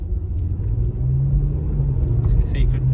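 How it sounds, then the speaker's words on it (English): Steady low engine and road rumble fills the cabin of a 2009 Acura TL all-wheel-drive sedan on the move, a constant moderate drone that swells slightly partway through. "Engine noise and the road noise is acceptable, I would say."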